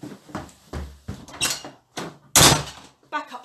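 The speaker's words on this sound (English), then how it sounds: "We forgot to shut the door." A door is pushed shut during a read-aloud of a children's story about a bear hunt, with a few soft bumps and thuds and one louder knock in the middle, and no talking over it.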